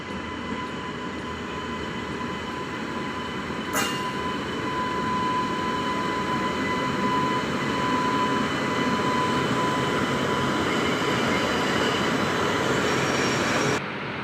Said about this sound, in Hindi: तो ये ट्रेन पास आ रही है, देखते हैं कौन सी ट्रेन है।